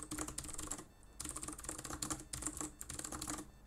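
A computer keyboard is typed on rapidly in close, steady bursts of clicking keystrokes, with one brief pause partway through, as a password is entered.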